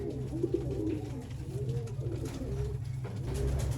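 Teddy pigeons cooing in a loft in Sialkot, several soft repeated coos close by over a steady low background hum.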